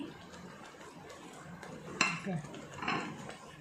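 A spoon stirs capsicum paneer masala in a metal pan with soft scraping and a couple of clinks, partly under a person's talk.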